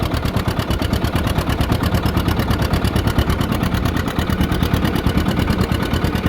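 A John Deere 70 tractor engine runs steadily at full throttle in third gear while pulling a plow, a loud, close, continuous throbbing rumble with even rapid firing pulses and no talk.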